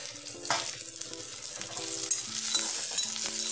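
Peanuts frying in a pan for kanda pohe, crisp sizzling with quick spoon stirs and light scraping, moderately close, with faint background tones under it.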